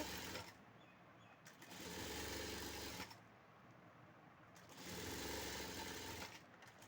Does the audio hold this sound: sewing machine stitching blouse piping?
yes